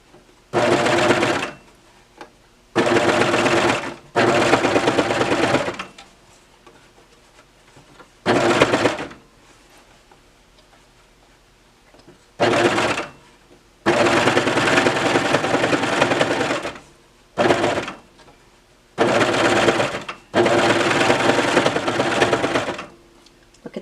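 A sewing machine fitted with a binder attachment stitches a batch of fabric masks in loud, close bursts of rapid whirring, separated by short pauses.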